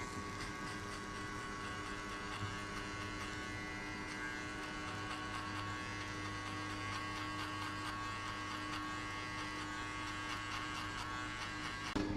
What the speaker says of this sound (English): open the clipper halfway and get rid of all this line